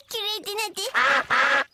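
Cartoon ducks from Peppa Pig quack in a brief run of four or five nasal, voiced quacks, close and loud, performed by human voices imitating ducks.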